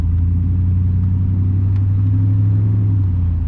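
A car with upgraded R1 Concepts brake rotors drives through a neighborhood, its steady low engine and road rumble holding constant and close throughout, with no voices.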